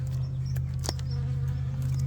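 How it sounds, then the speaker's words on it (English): Honey bees buzz steadily around an opened nucleus hive during a swarm-prevention split, a dense, continuous close hum with no talk over it. "And we got plenty of bees."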